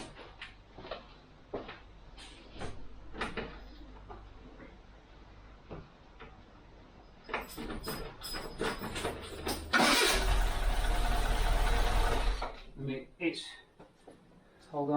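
A car engine fires up after its ignition timing has been set: a sharp cranking burst erupts and roars loudly for about two seconds, then drops away, with someone talking before and after and clunks nearby.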